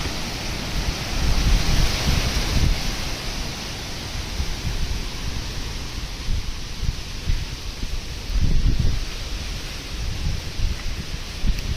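Strong wind sweeps across a wheat farm field, a continuous broad rushing roar with rustling leaves that swells in gusts around the start and again later, close to the microphone.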